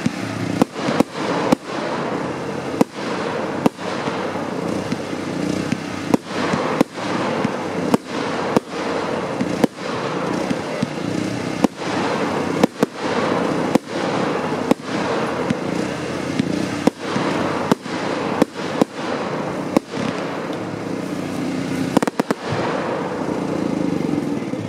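A 25-shot consumer firework cake of purple palm-tree bursts with white pistils fires its shots as sharp reports in an irregular volley spread over about 25 seconds, heard outdoors against steady background noise.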